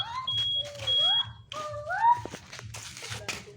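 A Yamaha motorcycle's buzzer sounds as a series of electronic beeps and chirping, sliding tones. It is close and fairly quiet, with a low idle hum and light talk underneath.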